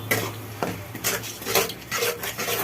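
Spices, including green chillies and whole cumin, are stirred and fried in a pan. A utensil scrapes and clinks against the metal in irregular strokes, with light sizzling. The sound is fairly quiet and close, with no talking.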